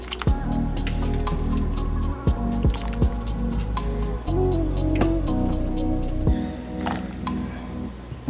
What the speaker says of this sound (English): Just gonna go ahead and put in our meat.